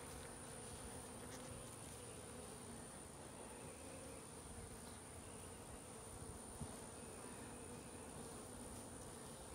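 A swarm of honeybees around a tree-stand swarm trap hums in a faint, steady, continuous drone, with a high-pitched whine running through it the whole time, and no one speaking.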